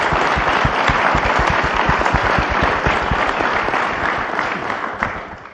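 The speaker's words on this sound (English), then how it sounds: "just a moment of applause and appreciation for the men and women of the FBI" A sustained round of applause from an audience honoring FBI personnel, dense steady clapping from many hands, loud and continuous, slowly fading near the end.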